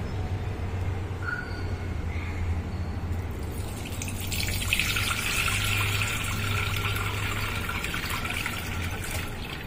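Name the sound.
water draining from soaked rice through a cloth in a sieve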